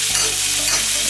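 Spaghetti noodles searing in a hot pan, a loud, continuous hiss of sizzling oil close by, steady and unbroken with faint stirring beneath and no talk.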